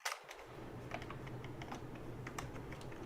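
Fast, steady keystrokes clatter on a computer keyboard close by, a continuous run of crisp clicks over a low background hum.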